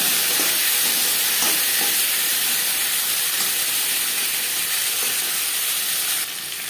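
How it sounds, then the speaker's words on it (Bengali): Broadband sizzle of potatoes frying in oil with a bay leaf and panch phoron for a shol fish curry, steady and fairly loud throughout, with a few faint stirring knocks and no talking. "পাঁচফোড়ন তেজপাতা ভেজে নেওয়ার পর দিয়ে দেবো আলু।"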